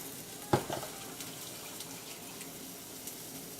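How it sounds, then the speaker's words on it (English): Water pours into a cooking pot for risotto with red radicchio, a brief splash followed by a soft, faint trickle in a quiet kitchen. "And add some water."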